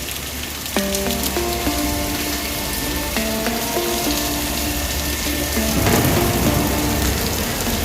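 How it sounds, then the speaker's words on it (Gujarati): Light drizzling rain falling outdoors, a steady soft patter and hiss that continues throughout, with melodic tones heard over it. "ઝરમર ઝરમર વરસાદ ચાલુ થઈ ગયો"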